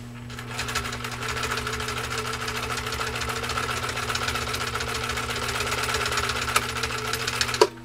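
Husqvarna Viking 21A sewing machine stitching zigzag through six layers of heavy denim, a steady rapid mechanical chatter with a constant low motor hum, running close and continuously, ending with a couple of sharp clicks.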